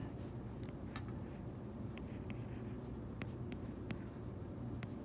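A pen scratches and taps on paper as a diagram is drawn by hand, quiet close strokes with small clicks scattered through, no talking.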